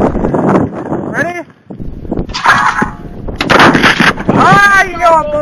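Shotguns fired outdoors at targets, giving loud sharp blasts that stand out over wind noise, with people talking and calling out between and around the shots.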